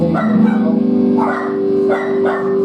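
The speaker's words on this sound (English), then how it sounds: "Dog's going nuts with the drum." A dog barks and yips excitedly along with drum sounds and an electric guitar playing nearby, short repeated vocal bursts blending into the loud music.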